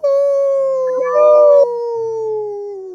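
A person howls like a wolf while playing Minecraft, one long loud sustained vocal howl slowly falling in pitch, a voice imitating the animal, with a brief second voice layered in midway.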